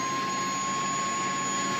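A loud, steady jet engine whine and roar heard up close beneath a parked airliner beside a CH-47D Chinook helicopter in the X-Plane 11 flight simulator, unbroken throughout with no talk.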